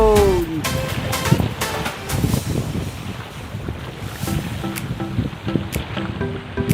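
Rough, choppy water slaps against a small boat on a fishing trip for tilapia, with gusting wind buffeting the microphone throughout.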